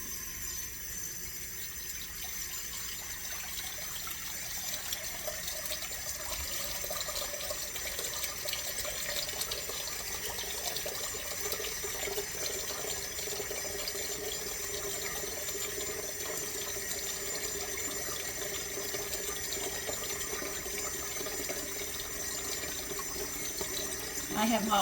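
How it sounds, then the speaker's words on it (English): Hot tap water runs steadily into a glazed ceramic bowl in a home kitchen, a continuous close hiss and splash that holds level throughout with no talk over it. "I have hot water running in the bowl because we need a hot bowl to put this in."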